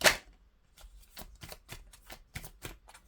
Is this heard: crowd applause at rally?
no